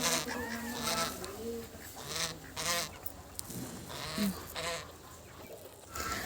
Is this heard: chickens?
yes